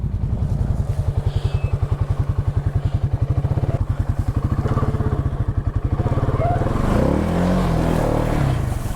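A Can-Am XMR 700 ATV engine revs hard while climbing a steep trail hill, a loud steady pulsing throttle drone that falters and clatters near the end.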